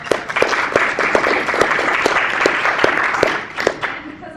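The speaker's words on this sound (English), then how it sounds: "So a round of applause to our sponsor." An audience gives a round of applause for a sponsor at a talk on Bitcoin basics, a dense, fairly loud stretch of clapping with distinct nearby claps standing out and faint murmuring underneath.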